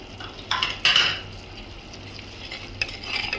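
Turmeric, salt, chili powder and coriander powder stirred into potato kurma in a pan, with a few close scraping and clinking strokes of a spoon over a faint sizzle, no talk.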